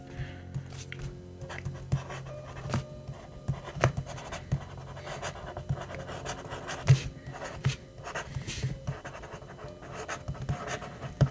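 A ballpoint pen writes on a reMarkable e-ink tablet, giving faint, close scratchy strokes and small taps in an irregular rhythm, quiet throughout.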